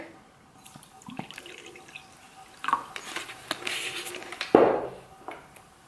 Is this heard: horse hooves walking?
no